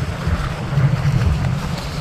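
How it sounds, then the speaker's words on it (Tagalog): Strong wind and heavy rain batter the surroundings in a steady, loud low roar with gusty swells, no voices present. "Talagang napakalakas pa rin ang ulan at hangin."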